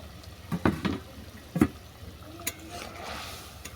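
Fig muitha dumplings dropped one by one into a pot of vigorously boiling water, giving a few distinct splashes and plops over a steady bubbling simmer.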